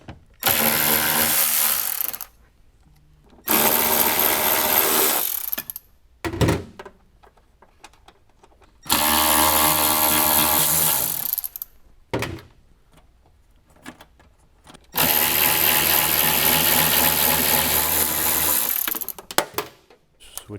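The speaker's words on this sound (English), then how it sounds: "remove the 4 10mm bolts" A ratchet turns out 10mm bolts on a 2021-or-later Ford Bronco during an audio system install, coming in four long bursts of rapid clicking separated by quiet gaps and short knocks.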